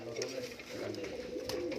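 Fancy pigeons coo in a loft, giving low, soft, rolling calls that overlap almost continuously, faint and close, with a person's voice in the background.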